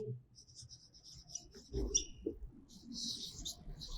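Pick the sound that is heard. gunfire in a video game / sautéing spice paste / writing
writing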